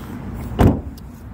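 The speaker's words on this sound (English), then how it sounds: "Controls there for the mirrors and front windows." Electric front window of a Toyota Yaris 1.5 hybrid moving inside the car, a brief close motor whir with a soft thump as the glass stops, no talking.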